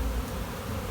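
A loud, constant drone of honeybees fills the air around an opened hive being split, close and even, with no talking over it.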